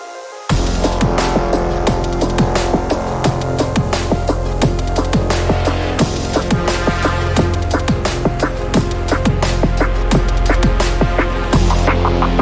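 A full liquid drum and bass drop plays loud and dense, with punchy, fast drum hits over deep sustained bass and chords, running continuously for over ten seconds.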